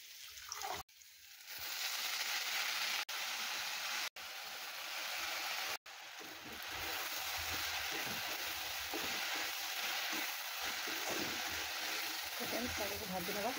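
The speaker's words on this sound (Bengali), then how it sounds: "শাগকে ভাজি নেওয়া" Leafy saag greens fry in a pan with a continuous hiss and crackle, briefly cut by short silent gaps before settling into a steady sizzle. Someone talks over it.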